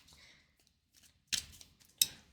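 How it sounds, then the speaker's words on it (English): A deck of cards for the Marvel Champions card game is shuffled: two short, crisp riffling bursts about half a second apart, fairly quiet and close, with no talking. "then we will shuffle the deck"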